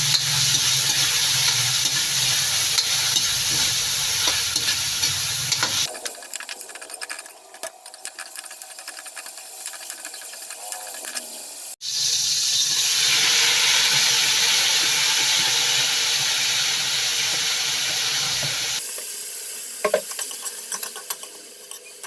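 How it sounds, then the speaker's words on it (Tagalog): Vegetables with onion sauté in a hot pan for pancit bihon and canton, a loud steady sizzle with stirring scrapes, changing in intensity as ingredients are moved and added, no talking. "Igisa na rin natin ang gulay."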